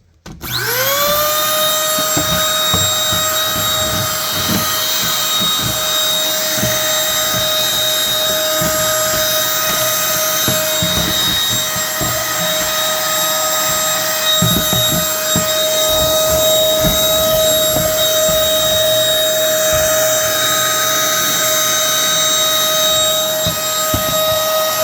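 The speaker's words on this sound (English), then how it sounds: "because my vacuum is rated for being able to do water" A wet-dry vacuum cleaner starts up and runs steadily while sucking water out of an old rusted vent, a loud continuous whine with gurgling, slurping bursts as the water is drawn in.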